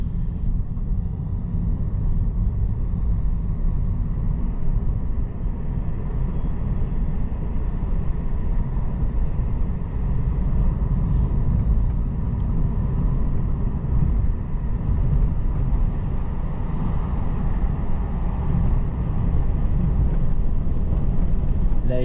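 A car drives along curving roads with the window partly open, giving a loud, steady low rumble of road and wind noise throughout.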